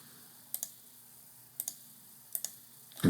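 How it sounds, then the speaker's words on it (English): Mouse clicks while editing a sign design in CNC carving software: three quick paired clicks spaced about a second apart, close and crisp against a quiet room, with a louder bump right at the end. "right-clicking on it"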